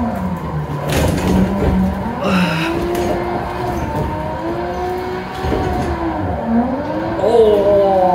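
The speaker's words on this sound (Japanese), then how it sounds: "ここの大外のドリフトが気持ちいいですね" A drifting car at Meihan Sportsland in a racing simulator: engine note rising and falling in steady revving sweeps with brief tyre squeals, loud and continuous, with someone talking over it.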